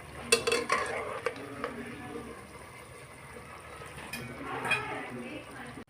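Eggplant fritters (beguni) fry in hot oil, giving a steady low sizzle with a few sharper clinks and stirring noises near the start and again toward the end. No one speaks.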